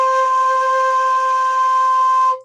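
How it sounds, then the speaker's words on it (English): A shakuhachi holds one straight, steady note with no vibrato, clear and sustained for a couple of seconds before stopping cleanly. "I'll play you a straight note"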